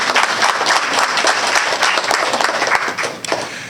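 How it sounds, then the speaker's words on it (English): Audience applause at an essay awards ceremony, a loud, dense wash of many hands clapping steadily throughout, close and sustained with slight easing near the end. "Give them a round of applause as well."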